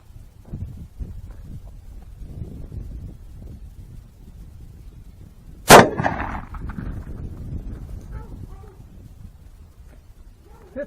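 A single loud, sharp gunshot from a Taurus .44 Magnum revolver with a roughly 6.5-inch barrel, firing a reload with a 200-grain XTP bullet over H110 powder, rings out amid wind noise and low rumble, followed by a short echoing decay.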